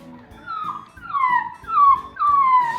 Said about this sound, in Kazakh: Күшік қой, ну.